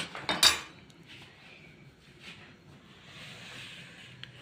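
A fork beats raw egg with salt in a bowl before it goes into a hot wok. A few sharp clinks come close together at the start, then it fades to a quiet room.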